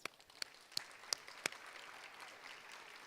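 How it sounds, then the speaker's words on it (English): At a pharmacy technician graduation, a small audience claps for the new students, a soft, thin patter with a few distinct sharp claps early on, heard faintly and at a distance. "Why don't you stand so we can give you guys all a round of applause?"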